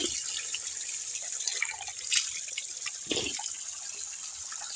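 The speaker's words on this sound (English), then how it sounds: "This is a natural spring of water." Water from a protected natural spring in Kenya flows and trickles steadily, a soft continuous wash with faint splashes at moderate distance and no voices.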